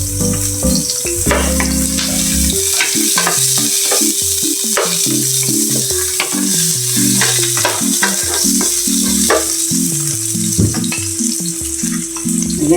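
Onions sautéing in a pan for Filipino ginisang gulay, a steady loud sizzle with repeated scraping stir strokes and clicks of a utensil throughout, accompanied by sustained background music tones.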